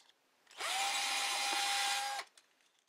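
A power drill bores a hole through a thin slice of wine cork, one steady high-pitched whine lasting about a second and a half. It starts and stops abruptly, close and loud, with no talking.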